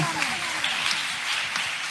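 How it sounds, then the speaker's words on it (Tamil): An audience at a youth revival meeting claps in a steady, dense patter of applause that keeps going the whole time, with faint voices underneath. "கைத்தட்டு கொடுங்களேன்."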